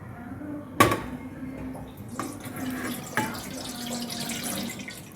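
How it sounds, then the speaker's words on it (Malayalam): Water runs and splashes into a metal idli steamer pot, a steady pour with a couple of sharp clanks of the vessel along the way. "ഇഡ്ഡലി ചെമ്പിലോട്ട് 2 കപ്പ് വെള്ളം ഒഴിച്ചു കൊടുക്കാം"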